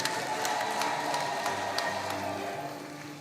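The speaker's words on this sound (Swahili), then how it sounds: "Tumpigie makofi ya kutosha." An audience at a parish celebration in Kifaru, marking ten years of a Mangalore mission community, applauds the District Commissioner with steady, dense crowd clapping that stays fairly loud throughout.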